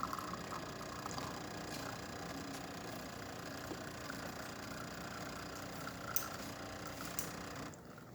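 A serviced Jura E6 coffee machine brewing a test shot after a full tune-up, giving a steady mechanical whir and hum with faint ticks throughout, close and moderately quiet, no talk.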